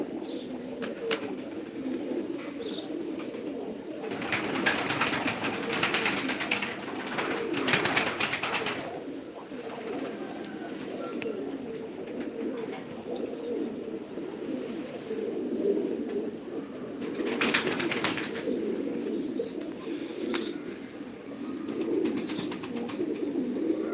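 Pigeons coo steadily in low, throaty murmurs in a loft, several birds overlapping in a close, busy chorus with occasional wing flutters.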